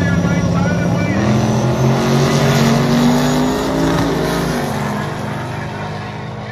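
A turbocharged Ford Ranger rolls down the right lane of the drag strip at Byron Dragway, its engine a loud, sustained roar whose pitch climbs and shifts as it moves off, then eases slightly toward the end.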